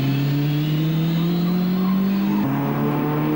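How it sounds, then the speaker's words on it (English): Lotus Elan 26R race car at a 1998 Anglo American Challenge race, its engine droning loud and close with a gradually rising pitch, then dropping sharply as it goes by. "37, that's the Lotus Elan 26R of Mike Ryan."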